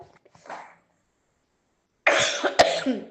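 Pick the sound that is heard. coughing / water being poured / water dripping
coughing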